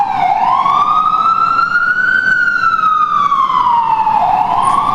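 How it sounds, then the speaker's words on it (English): A loud emergency siren wails steadily close by, its pitch rising and falling in one long sweep as it passes. "I'm going to let the siren go by."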